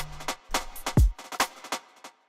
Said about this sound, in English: We're gonna put a dub delay on that.